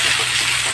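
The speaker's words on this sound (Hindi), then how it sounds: "ये सब को आप मिक्स कर लें, देखते हैं आप मिक्स करें इसे" Spices and vegetables for upma being stirred in a hot pan, giving a brief, close sizzle with scraping, ending in a small knock of the spoon.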